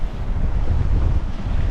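Strong wind roars steadily across the microphone aboard a sailing boat on the North Sea, with waves washing and splashing beneath, loud and continuous with no talk.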